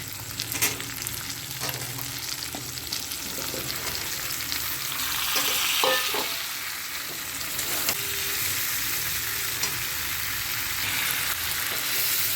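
A fish head and vegetables sauté in a pan, producing a dense, loud, steady frying sizzle that runs throughout, with occasional soft stirring knocks and no talking.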